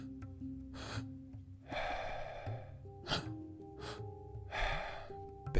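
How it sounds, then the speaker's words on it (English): Slow, deep breaths in a guided breathing exercise, each inhale drawn in and let out in a long exhale, repeating in a steady rhythm close to the mic over a soft sustained drone. "Inhale, inhale, exhale."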